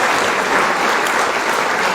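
An indoor audience claps at a Bengali motivational talk, a dense, continuous burst of many hands applauding at steady volume for the whole stretch, with no voices over it.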